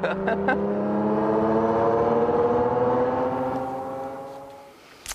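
A Ferrari engine revs steadily and loudly, its rich harmonic drone holding high before easing off and fading near the end, with a brief burst of noise at the close.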